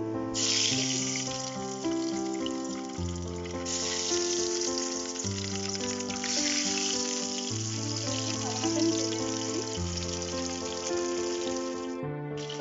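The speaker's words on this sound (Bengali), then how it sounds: "ডিমগুলো ভাজা হয়ে গেছে, এগুলো আমি একটা পাত্রে উঠিয়ে নিচ্ছি।" Eggs fry in hot white vegetable oil in a wok with a continuous, even sizzle beneath steady background music throughout.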